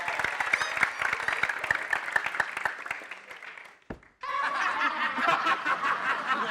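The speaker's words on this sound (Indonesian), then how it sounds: "Tepuk tangan lu dong." A crowd claps in bursts, with scattered sharp claps and chuckling that fade out and then return as broader, denser applause mixed with laughter.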